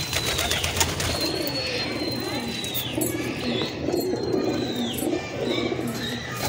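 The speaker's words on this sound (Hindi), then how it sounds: "ये पूरा पिंजरा है कबूतरों का," Pigeons in a large cage coo repeatedly in soft, low rolling phrases, with a few higher chirps and whistles over a busy, noisy background, close by and fairly loud.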